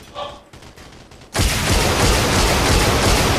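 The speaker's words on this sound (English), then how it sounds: "Now I'm getting shot up." Dense, continuous gunfire from the online shooter game Absolute Force Online erupts after a quieter second and a half of faint in-game noise, loud and sustained like a close fusillade.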